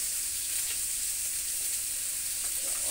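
Torn green chillies frying with small puti fish in a pan, a dense, steady hiss of sizzling oil, close and even throughout, with faint stirring underneath.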